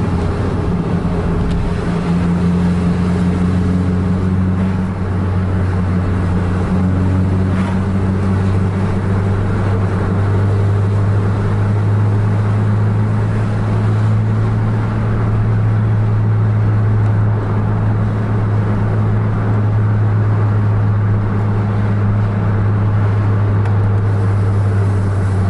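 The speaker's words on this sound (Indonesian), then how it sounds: "ada kendaraan dari arah berlawanan." Another vehicle passes from the opposite direction on the road, heard over a steady, loud engine drone and road noise that runs throughout.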